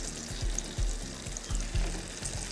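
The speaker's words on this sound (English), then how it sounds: "that's a good sizzle" Fluke fillets sizzle in a hot pan on a grill, a steady crackling hiss with a few louder bursts of spatter, no voices.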